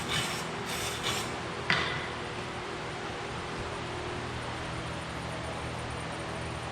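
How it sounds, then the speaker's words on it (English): A wire brush scrubs across a MIG horizontal padding weld bead in a few sharp rasping strokes, then steady shop hiss continues without talking. "Go ahead and wire brush this a little bit."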